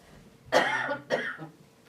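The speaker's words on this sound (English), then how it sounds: "I'm gonna cough, I'm sorry." Two harsh coughs break out close by, one strong burst followed by a shorter second one, with faint room noise in between.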